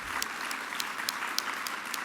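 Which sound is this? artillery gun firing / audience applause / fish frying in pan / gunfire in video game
audience applause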